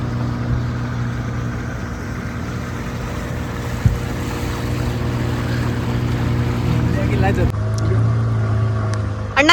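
A boat engine drones steadily over the water near the Kerala view point with a low, constant hum, and a thump and louder splashing noises come near the end.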